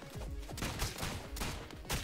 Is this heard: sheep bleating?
no